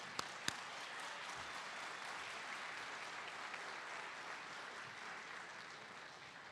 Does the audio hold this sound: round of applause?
yes